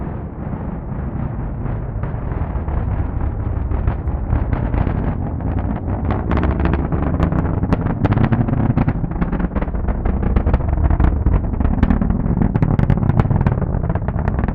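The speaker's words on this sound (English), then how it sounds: "Let's listen to the roar of those 9 Merlin 1D engines." Nine Merlin 1D engines on a SpaceX Falcon 9 rocket roar continuously during a Starlink launch from Cape Canaveral, a loud, dense, crackling broadband rumble that persists throughout.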